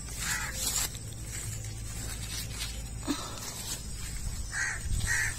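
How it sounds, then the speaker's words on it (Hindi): Crow caws repeat at intervals over a steady low outdoor hum, a few harsh calls near the start and a pair of short caws near the end, with no talk. "कौवा भैया मुझसे लड़ रहे हैं कि इनका आम कौन ले जा रहा है"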